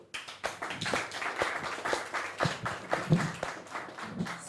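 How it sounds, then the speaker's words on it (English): A small audience at a cassava week celebration claps after a panel discussion, with scattered irregular handclaps that are fairly close and moderately loud and that rise and fall for several seconds. "Shall we clap for them?"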